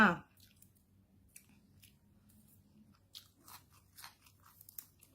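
Close-up eating of a Thai rice noodle salad with pork sausage, with scattered crunchy bites and wet chewing sounds after a brief murmur, mostly quiet between the mouth noises.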